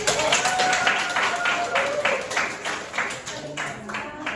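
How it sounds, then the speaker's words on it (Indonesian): Applause from a classroom of students for a group that has just finished presenting, a steady burst of many hands clapping at close range that carries on across the whole stretch and thins slightly toward the end. "Oke, tepuk tangan untuk teman."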